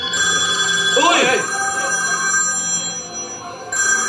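A telephone rings once in a brief burst of rising and falling electronic tones on a lively Filipino TV variety show stage, with voices and studio noise around it.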